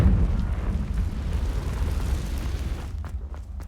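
A Confringo blasting spell explodes in the Hogwarts Legacy video game, a loud booming rumble that sustains heavily for a few seconds before tapering off into lighter crackles.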